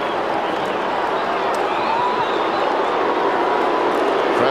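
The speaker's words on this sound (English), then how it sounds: "Crowd not happy with that." A large Australian football crowd at Carlton versus Melbourne in 1995 keeps up a loud, continuous roar of displeasure, a dense wash of voices and whistles that holds steady throughout, with a commentator speaking faintly over it.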